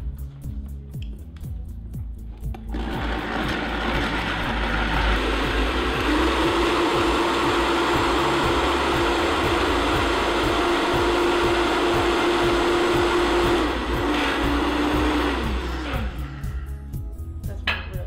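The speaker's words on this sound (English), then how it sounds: "We're gonna blend it until it gets creamy, creamy, creamy smooth." A blender whirs loudly and steadily for several seconds, churning raw pie filling until creamy, after a few short start-up pulses, with the motor pitch holding high through the middle before it cuts off.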